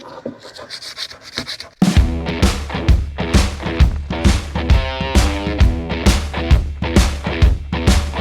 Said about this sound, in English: now it's time to do everybody's favorite part, sanding